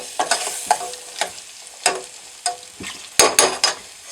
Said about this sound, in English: In go the onions. We want to let those sizzle around a little.